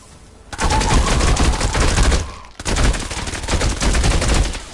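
Candy Corn LMG firing in Fortnite Save the World, two long bursts of rapid automatic gunfire separated by a brief pause, loud and close with no talking.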